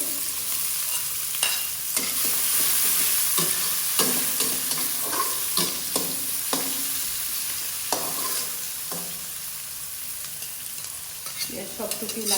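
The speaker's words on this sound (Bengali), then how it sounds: "দিয়ে দিচ্ছি পেঁয়াজ কুচি তেলটাও গরম হয়ে গিয়েছে" Chopped onions hit hot oil and fry with a bright crackling sizzle, punctuated by frequent sharp scrapes and taps of a spoon stirring them in the pan.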